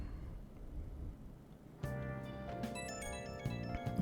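A phone rings in Persona 5 Royal, a tonal electronic ringtone with stacked bright chime notes starting partway through and repeating steadily over a low background hum.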